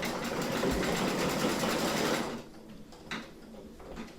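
A Brother Innovis V5LE embroidery machine stitches a coaster in the hoop, a steady, close mechanical whirring that runs for about two seconds then stops, leaving a few faint clicks and quiet handling sounds.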